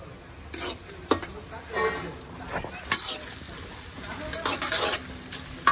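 Chopped onion fries and sizzles in a pan at a farmhouse cookout, a steady crackle with scraping stir strokes and utensil clinks, close and moderately loud.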